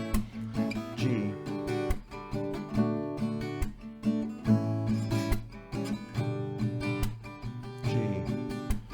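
An acoustic guitar strums the chords of a song in a steady, rhythmic down-up pattern. Bright, ringing chords sound close and clear, with no voices.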